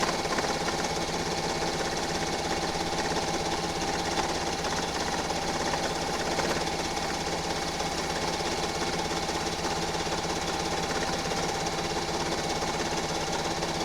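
A sewing machine stitches a quilt in a long, even run of fast mechanical chatter. The steady hum and rattle continue without a break, with no speech.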